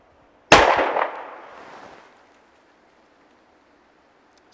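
A single loud gunshot from an M&P 2.0 10mm pistol at an outdoor range, a sharp close crack followed by a reverberant tail that fades over about a second and a half, with quiet after.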